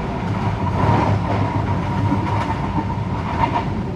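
Steady rumble and rhythmic clatter of a train passing through Cirebon station on the Menoreh New Generation economy service, a continuous close roar with a low hum, with no talking.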